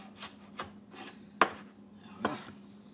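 Knife chopping onion on a board for a sandwich, a handful of irregular crisp cuts spaced apart, close and fairly quiet, no talk.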